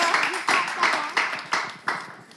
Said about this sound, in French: Esther, on applaudit Esther.